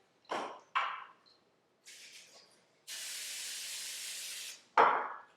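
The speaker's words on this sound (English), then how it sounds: "I like to spray my skillet with some Pam." Pam cooking spray hissing into a skillet in a home kitchen: two short bursts, a brief softer puff, then one long steady spray of about two seconds, followed by a final short burst, close and fairly loud, with no talking.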